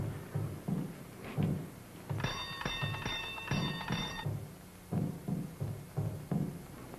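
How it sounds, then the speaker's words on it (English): A doorbell rings with a bright, repeated chiming tone for about two seconds in the middle, between muffled thuds and low knocking sounds. "You ring the bell."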